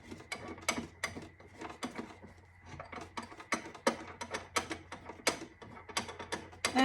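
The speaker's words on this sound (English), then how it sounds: "So I'm just going to tighten it down." A cap hoop driver clamp being tightened down on a shelf, with repeated ratcheting clicks and small mechanical rattles in an uneven rhythm, close and fairly quiet.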